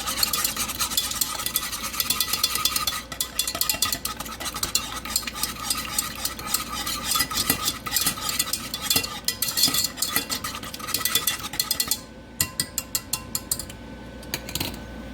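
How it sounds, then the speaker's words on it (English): Eggs being whisked in a bowl for sugar-free eggnog, with a rapid, continuous scraping and clicking rhythm, close and moderately loud, ending in sharper, more separated taps, with no talking. "I'm going to whisk these little babies up"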